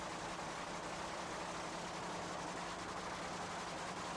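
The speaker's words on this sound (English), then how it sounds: "The engine was fired up and the crew chief stood back." A supercharged Budweiser funny car drag-racing engine fired up on neat fuel at Santa Pod in 1986, a loud, dense, steady roar with low rumble, heard close and alone throughout.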